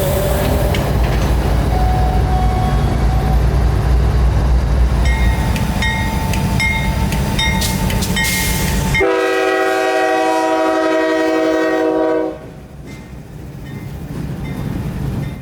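A CSX freight train led by CW40-9 locomotive 9015 rumbles loudly nearby, then sounds its horn in long blasts that ring out over the fading engine noise.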